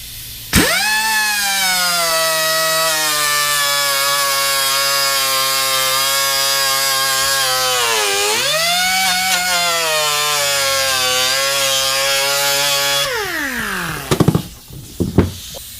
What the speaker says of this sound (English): I angle grind the bottom of the rivet off of the shifter.